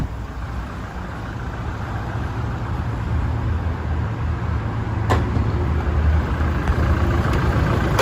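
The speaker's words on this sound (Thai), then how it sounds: "สตาร์ทเครื่องด้วยเลยนะครับ จะได้ฟังเสียงเครื่องนะครับว่าเพราะขนาดไหนนะครับผม" A 2017 Toyota Hilux Revo Prerunner double cab with a 2.4 diesel engine idles steadily, a low, even rumble heard up close with no talking over it.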